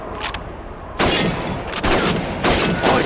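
Rifle shots ring out at targets in the World War II shooter Call of Duty 2, a few loud sharp cracks spaced apart with echoing tails and no voices over them.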